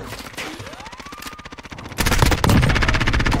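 Gunfire in the Modern Warfare video game: rapid automatic bursts of evenly spaced shots, first moderate, then louder and denser from about halfway through, with a rising whine under the earlier shots.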